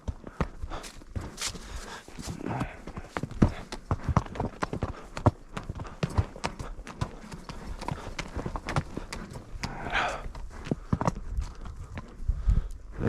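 Irregular hoof clops thud on soft ground, steady and close, as a horse walks along during a fall gather north of Reno, Nevada. Rustling and faint breathing mix in among the beats.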